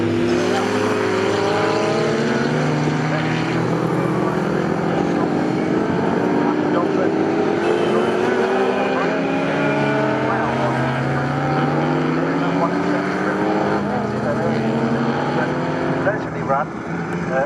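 1960s racing cars tear past at speed around Snetterton circuit in a Group 2 race, engines roaring loud and close with rising and falling revving sweeps, as a commentator talks over them throughout.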